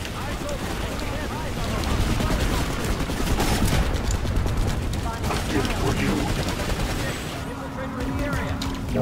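Dense, continuous automatic gunfire and bursts from a video game shooter, loud and sustained throughout with overlapping shots and rumbling impacts, no speech over it.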